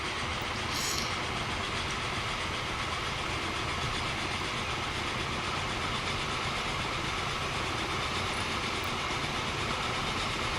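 A train rolls along a railway in the Transport Fever game, a steady loud rumble of wheels and carriages with faint clickety-clack running unbroken from start to finish, with no voices.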